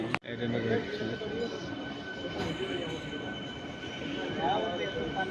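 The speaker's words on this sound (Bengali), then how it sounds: "ট্রেন নাম্বার তো আমাদের ট্রেন ঢুকছে এখন" Shoranur–Kannur MEMU special train pulling into a platform in Kerala, a steady rumble of wheels and carriages with station bustle, and voices talking over it throughout.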